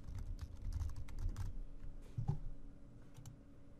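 A computer keyboard is typed on to enter a network file path, with irregular bursts of crisp keystrokes close by and brief pauses between them, no talking.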